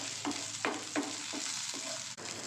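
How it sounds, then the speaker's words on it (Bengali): Nigella seeds, chopped garlic and dried red chillies crackle and sizzle in hot mustard oil while a spoon stirs with a few distinct scraping strokes; no talking. "তেল গরম হয়ে গেছে, দিয়ে দিচ্ছি কালো জিরে, রসুন কুচি, দুটো শুকনো লঙ্কা"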